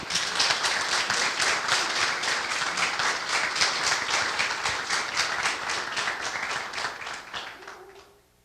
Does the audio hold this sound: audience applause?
yes